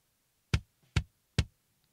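A gated kick drum picked up inside the shell by an RE20 microphone, three tight, punchy thumps in steady rhythm, fairly quiet with a short decay and a mid-range click, no talk.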